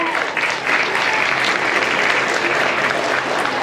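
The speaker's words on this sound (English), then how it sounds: "give this first group of showmen a big round of applause" A crowd at the Summit County Fair hog showmanship event gives loud, continuous applause, with dense clapping that holds steady throughout.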